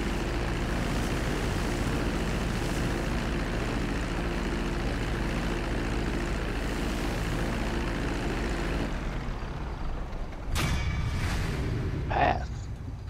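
A fixed-wing propeller airplane in Grand Theft Auto V comes in to land, its engine roaring loud and steady before the sound shifts and thins, followed by a few short sharp knocks.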